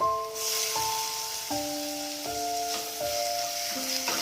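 Tomato is added to onions fried until reddish, and the pan gives off a steady, close sizzling hiss while a simple melodic tune plays along underneath, with no one speaking.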